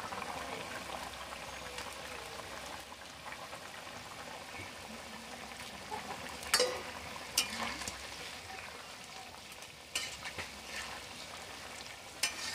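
Pona fish frying in a pan with boiled potatoes: a soft, continuous sizzle and bubbling with scattered sharp clicks and scrapes of stirring, close and low in level.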